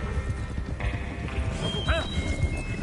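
Steady hoofbeats clip-clop at a trot with a horse's whinny partway through, over a faint music-like backdrop, in the video game Red Dead Redemption 2.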